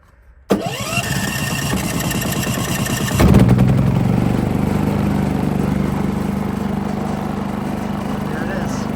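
A Champion inverter generator fitted with an exhaust extension pull-starts with a sharp burst, then settles into a steady, fairly quiet engine hum that runs on continuously after a brief surge.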